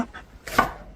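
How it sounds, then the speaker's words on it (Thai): Knife chopping cabbage into pieces on a board after the hard core is removed, for a vegetarian stir-fried noodle dish; a few soft, close cuts, with one firmer chop standing out. "หั่น ออก เป็นชิ้นพอทำค่ะ"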